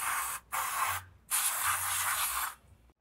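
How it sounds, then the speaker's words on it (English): Brake cleaner hisses from an aerosol can onto a Land Rover LR3 front brake caliper during a disc and pad job, in three close bursts: two short sprays, then a longer sustained one. "We're going to use a little bit of brake clean and just kind of clean up our caliper a bit."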